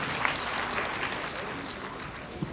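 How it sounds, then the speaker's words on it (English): An audience at a NORLAND International gathering claps in a steady, moderately faint wash of applause that keeps an even level throughout, with a few sharper individual claps standing out. "Clap for NORLAND for this wonderful system."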